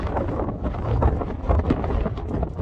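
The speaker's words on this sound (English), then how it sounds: "oh, there we go, the wind" Strong wind gusts roar across an exposed, wintry fell top in the Lake District, buffeting the microphone in a steady, loud rush with surging peaks and no speech.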